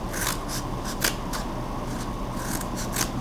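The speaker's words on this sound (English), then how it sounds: "So you just keep turning it and cutting all the way around." Repeated crisp snips of scissors cutting paper, a steady run of short rasping cuts close by, with no voices.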